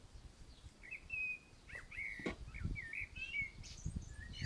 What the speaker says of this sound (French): Et plus vous descendez, et plus vous entendez le chant des oiseaux.